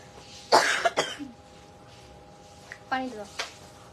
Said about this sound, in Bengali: আর কথা বললেই আমার কাশি বেড়ে যাচ্ছে